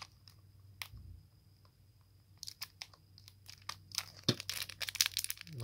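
Crinkly tearing and crackling of foil packaging, sparse at first, then denser and louder as a Yu-Gi-Oh trading card pack is ripped open up close.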